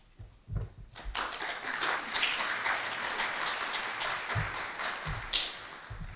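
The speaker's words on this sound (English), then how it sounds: "I appreciate the applause" Conference audience applauding after a keynote introduction, a moderate spread of clapping that swells after the first second and carries steadily, with a few louder close claps near the end.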